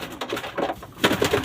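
French meat pigeons cooing in a loft, a few soft, throaty coos close by, the last louder, no talk.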